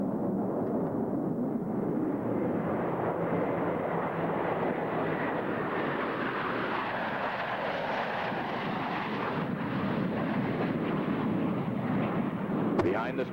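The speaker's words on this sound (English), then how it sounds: "Blue Angels 5 and 6 are approaching the flight line in a line abreast formation at 400 miles per hour" Blue Angels F-18 jets fly past at a 1987 Top Gun airshow, a loud, continuous roaring jet rush that swells and sweeps across the sky, with a crowd or announcer faintly audible beneath.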